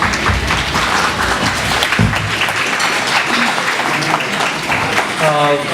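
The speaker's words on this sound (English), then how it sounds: "All right, let's give this group a round of applause." A crowd at a county FFA livestock show applauds a group of exhibitors, loud dense clapping that runs steadily throughout, with voices mixed in near the end.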